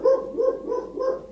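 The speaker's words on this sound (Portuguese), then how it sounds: "meu doguinho tá latindo" A small dog barks indoors in a steady series of about four moderately loud barks, evenly spaced, with no talking over them.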